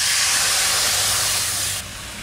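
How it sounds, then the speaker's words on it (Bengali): Mustard water, dried chillies and onion go into a hot pan with black cumin tempering, giving a loud, rushing steam hiss close up that eases slightly as it settles. "আর শুকনো লঙ্কা, পেঁয়াজ, সর্ষের জলটা দিয়ে দিচ্ছি"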